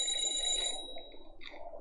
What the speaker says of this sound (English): Is that the ringing coming from the phone booth?